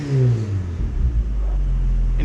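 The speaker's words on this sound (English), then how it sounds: "so it revs to the moon super fast." A car engine with a lightweight flywheel revs up sharply and then settles into a loud, rumbling roar close by.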